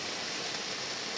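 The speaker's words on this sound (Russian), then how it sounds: "шумит водопад." The Hotnitsa waterfall in Bulgaria rushes as a steady, broad hiss of falling water, soft and constant through a very short moment.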